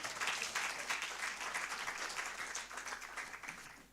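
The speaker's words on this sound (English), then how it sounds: "A round of applause for the panelists." Sustained audience applause for conference panelists at a Pan African youth conference, a dense, steady wash of many hands clapping at moderate distance for about four seconds, with no talking over it.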